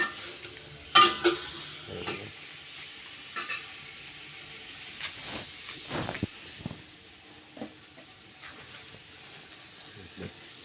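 Spices and duck meat are sautéed and stirred in a pot, with sporadic scrapes and clinks of a spoon against metal over a soft sizzle, fairly close and quiet.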